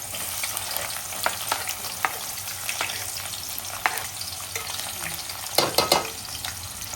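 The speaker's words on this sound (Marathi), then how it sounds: "पहिला एक कांदा जो आपण लांब चिरून घेतला तो टाकायचा आहे" Long-sliced onion fries in a pan for Agri-style prawn rice: a close, steady sizzle broken by sharp scraping taps of stirring, with no voices.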